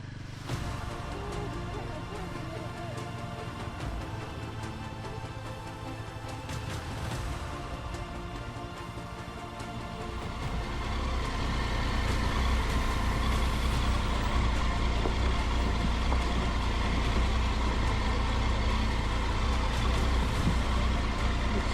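A Royal Enfield Himalayan motorcycle on a narrow road, its single-cylinder engine rumbling low and steady, growing louder as revs rise partway through, with wind and road noise over it.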